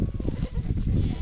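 Goats bleating in a brushy pasture with rye going to seed, a short burst of close, rough bleats over a steady low farmyard murmur.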